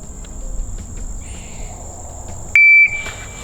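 A single sharp, high electronic beep from a shot timer signalling the start of a concealed-carry draw, lasting about a third of a second, loud and close, over steady outdoor insect chirping.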